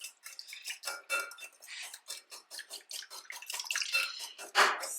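Water is poured into a pan of cream of mushroom soup, giving a close, steady splashing and clinking of a metal pan and utensils for several seconds, with no talking.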